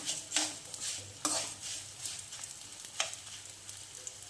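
Food roasts in a hot pan, sizzling softly throughout, while a utensil scrapes and stirs in several distinct strokes spaced about a second apart; no one talks.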